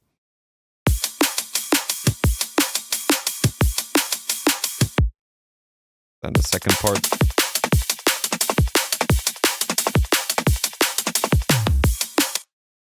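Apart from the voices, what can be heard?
drum loop playing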